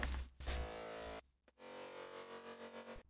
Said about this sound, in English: it's just a saw wave being FM'd by a sine wave